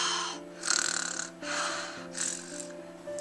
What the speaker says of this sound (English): he doesn't have a problem with his own snoring